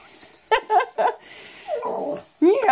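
A puppy stuck in its dog bed whimpers and yips in short, high, whining bursts, close by, with a longer whine and growly sounds between the bursts.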